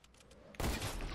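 A sudden loud burst of Fortnite gunfire after a quiet moment, with a rough, sustained blast that keeps ringing to the end.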